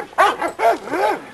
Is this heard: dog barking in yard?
yes